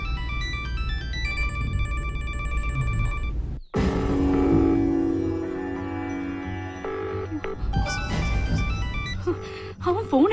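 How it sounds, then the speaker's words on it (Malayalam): A telephone rings repeatedly in a tonal, patterned tone over steady background music and low rumble in a Malayalam comedy film scene, with a sharp cut midway and speech-like sounds near the end. "ഫോൺ റിങ് ചെയ്യുന്നുണ്ട്, പക്ഷെ ആദ്യം ഫോൺ എടുക്കുന്നില്ല."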